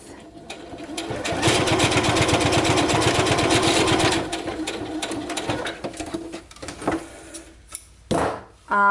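A sewing machine runs fast and close, stitching the seam allowances of a welt to the raw edge of a pocket bag at regular stitch length, a rapid mechanical whirring with clicking needle strokes that slows, stops and restarts in short bursts.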